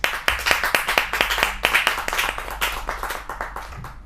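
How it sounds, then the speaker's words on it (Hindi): Audience clapping to welcome a poet on stage, a close, brisk run of individual claps with a loose rhythm that slowly thins out toward the end. "एक बार बहुत जोरदार तालियों के साथ स्वागत किया जाए प्रवीण आर्य जी का"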